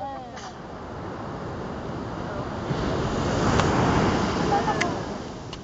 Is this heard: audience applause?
no